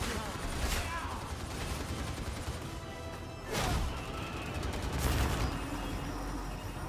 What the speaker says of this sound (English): You should keep shooting the gun. Even if there's no target, just keep shooting it.